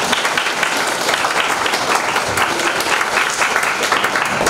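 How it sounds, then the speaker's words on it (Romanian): Dense, steady audience applause fills a hall at a school award ceremony for a book competition, many hands clapping at once with no break throughout. "Haideți să o și aplaudăm."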